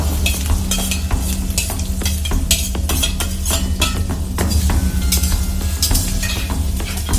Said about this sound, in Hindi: प्याज जब तक सुनहरा ना हो जाए तब तक इसको हम भूनेंगे।